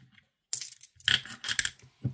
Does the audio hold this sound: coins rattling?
yes